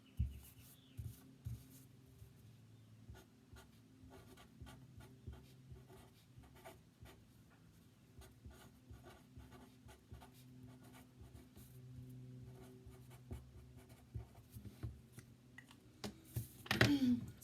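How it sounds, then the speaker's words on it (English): Pen scratching across a paper tomato cutout, a steady run of soft strokes and taps close up with no talking, ending in a brief louder rustle. "I'm going to write take 5 deep breaths on this tomato"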